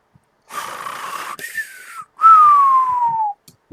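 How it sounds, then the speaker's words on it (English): Whistling trill from the video game TOGG: a breathy whistle, then a brief gap, then a clearer, louder whistle sliding gently downward, heard alone without speech. "kind of a whistling noise, but more like a trill to it"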